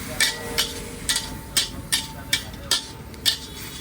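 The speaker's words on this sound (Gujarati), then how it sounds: "હવે એને પણ આપણે પ્રોપર તરીકે મિક્સ કરી લઈશું." A special red chutney mixture stirred in a pan, giving a steady series of light, regular clinks and scrapes about three times a second, close and fairly clear.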